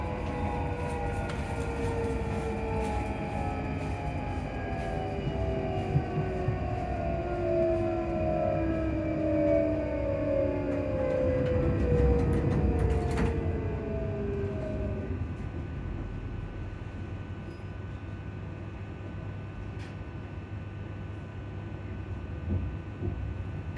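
Alstom train traction fans whirring on board, several steady tones sliding gradually downward in pitch over a low rumble as the train slows, then fading to a quieter hum.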